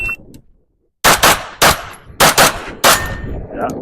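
Pistol shots at paper targets and a steel mini popper on a shooting range: five sharp, loud reports in an uneven cadence after a brief pause, one ringing with a metallic ping, with faint talk before the shooting.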